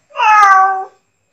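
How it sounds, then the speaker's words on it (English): A Nepali humanoid robot plays a recorded cat meow, a single clear drawn-out meow lasting just under a second, loud and close, followed by silence. "Here's a cat sound."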